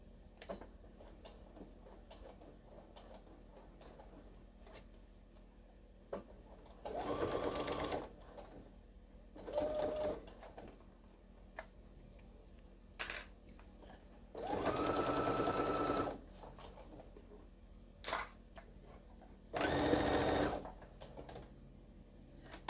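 A sewing machine runs in several short bursts of rapid stitching while sewing a zipper pouch, stopping and starting, with quiet clicks and handling sounds in the pauses.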